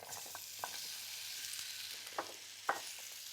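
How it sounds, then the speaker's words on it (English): Potato chips shallow frying in extra virgin olive oil: a quiet, continuous sizzle with a few soft clicks and stirring knocks from a utensil in the pan, heard alone without talk. "I want to shallow fry these potatoes"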